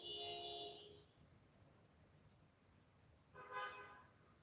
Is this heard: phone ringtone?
no